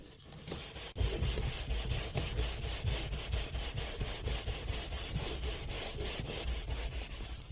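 A Servfaces scrubber pad rubs steadily back and forth over a surface, giving a continuous, close, fairly loud scrubbing with a regular stroke rhythm and no talk.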